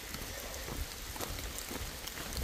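Steady rain falls on the Appalachian Trail during a thru-hike, a constant hiss with scattered soft patters of drops, close and even throughout with no talking.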